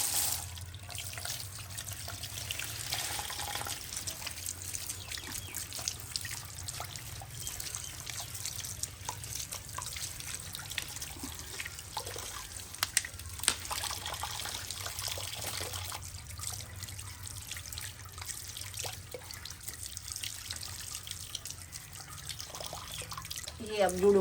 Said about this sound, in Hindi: पहले मूलियों को धो लेते हैं।